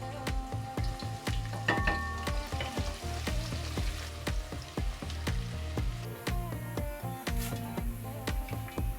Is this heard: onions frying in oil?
yes